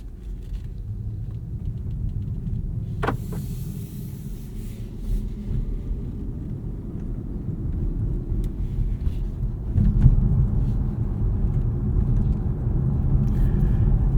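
A 2023 BMW i4 eDrive40 electric car driving, with a steady low road and tyre rumble from inside the cabin that swells slightly toward the end, plus a brief click early on.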